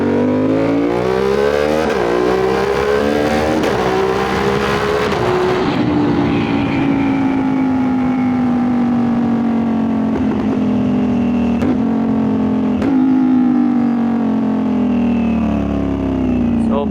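A 450SR motorcycle fitted with a quickshifter revs hard and climbs through the gears, with loud, close engine pitch rising and then dropping at each quick shift during a sustained pull.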